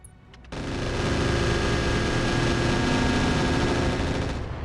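Sustained, dense gunfire from mechs in the combat video game Roguetech starts abruptly after a brief quieter moment and holds loud and continuous to the end, with no talking.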